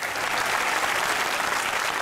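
A studio audience at a Pakistani comedy talk show claps in a dense, even burst of applause that holds steady and close for a couple of seconds.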